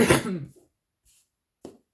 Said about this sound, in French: Je m'excuse, je tousse un petit peu.